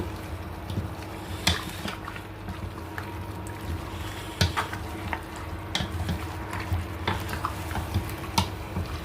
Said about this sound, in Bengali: মাংসটা আমরা একটু ভাজা ভাজা করে তারপরের মধ্যে পেঁয়াজ মরিচ দিচ্ছি আগে একটু আদা রসুনটা ভালো করে মেশাচ্ছি